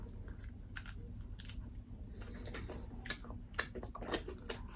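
Fried salt-and-chili shrimp with thick shells being chewed close by, with quiet, irregular crunches and bites that continue steadily without talk.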